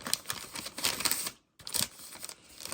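Tape is pulled and pressed on while a present is wrapped, giving close, rapid crinkly rustling and tapping with a brief silent gap partway through, and no voices.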